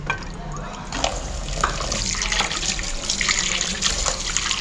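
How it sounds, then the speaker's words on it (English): Tap water runs steadily into a sink for handwashing in a new home in Mombasa, a continuous splashing hiss filling the whole stretch at moderate level with no talk over it. "Just wash our hands from here."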